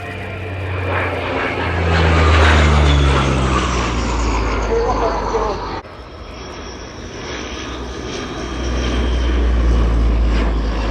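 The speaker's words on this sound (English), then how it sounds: "the final pass from the Leonardo AW101" A Leonardo AW101 helicopter makes its final display pass at an air show, a loud rotor and turbine roar sweeping by close overhead and swelling and easing over several seconds, with crowd or commentary faintly beneath.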